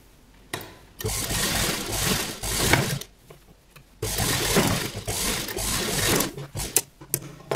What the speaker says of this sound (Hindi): अब हम यहाँ से बस इसको ऐसे सिलाई लगा लेंगे।